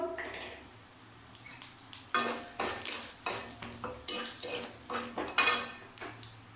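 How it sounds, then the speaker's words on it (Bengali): Dried chillies and panch phoron frying in a pan, stirred with a metal spatula that scrapes and clanks against the pan in a steady, repeated rhythm, close and fairly loud. "এর মধ্যে দিয়ে দিচ্ছি আমি শুকনো লঙ্কা, দিয়ে দিচ্ছি 5 ফোড়ন"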